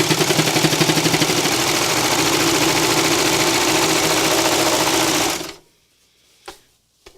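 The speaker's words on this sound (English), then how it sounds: "the blades cut just ahead of the needles stitching and the loopers looping over the edge" A serger overlock sewing machine running fast as it trims and stitches fabric edges, producing a loud, steady rapid whir that stops abruptly and is followed by a couple of faint clicks.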